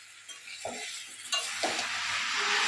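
Malabar spinach leaves being stirred and fried in a pan with other vegetables, giving a steady sizzle with a few scraping stir strokes that build into louder frying toward the end.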